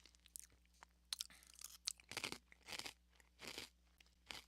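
Someone chews Chex Mix rye chips close to the microphone, giving several loud, crisp crunches in an uneven rhythm over a low background hum.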